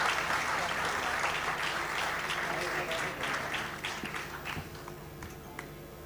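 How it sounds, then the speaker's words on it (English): A large audience at the APICTA 2022 awards ceremony gives sustained applause, a thick wash of clapping that thins out over the last seconds as a voice continues. "let's give a big round of applause to Dr. Shoaib Ahmed Khan Sahab"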